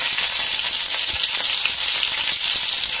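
Green chillies and ginger fry in hot oil, giving a loud, steady crackling sizzle that stays constant and close, with no one talking over it.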